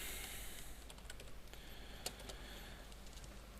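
Quiet, fairly close clicks of a computer keyboard as code is typed, in quick irregular bursts of keystrokes with one sharper tap.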